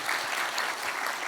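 A church congregation claps steadily and loudly together during a worship service, a dense, continuous patter of many hands with no pauses.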